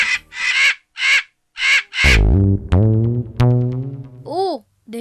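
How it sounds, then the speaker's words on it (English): Crows cawing in an animated cartoon, a run of five loud, harsh caws in quick succession, followed by cartoon voices talking and a final rising squawk. "Oh, they are crows."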